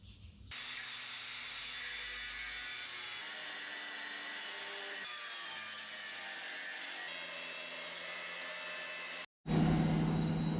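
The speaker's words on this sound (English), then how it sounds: "it's not a plane landing in my garage, it's actually just the washing machine" A loud washing machine runs in a garage with a steady, roaring drone like a jet plane, holding constant for several seconds before cutting out briefly and surging back even louder.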